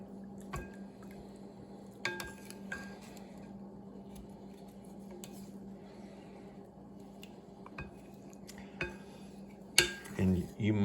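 Wooden spoons work warm mozzarella curds in hot water on a farm, giving soft wet squishes with occasional knocks against the pot, sparse and fairly close over a steady low hum, no talking.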